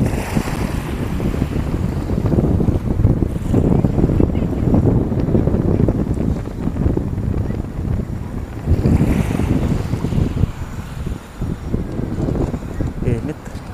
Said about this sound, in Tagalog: Napakasarap ang hangin pala dito pag ganito.